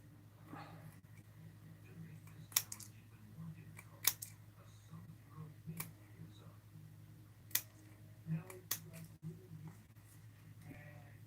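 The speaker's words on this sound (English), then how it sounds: "we're going to get our scissors, and we're going to trim" Faint, sporadic snips of scissors trimming around a glued paper craft piece, a handful of short crisp cuts spaced a second or two apart against a low steady hum.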